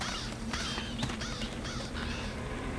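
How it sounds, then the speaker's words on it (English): Crows cawing in the MediEvil video game, a run of harsh repeated caws that overlap and layer across a steady low ambient drone, loud and close with no talking. "Damn birds!"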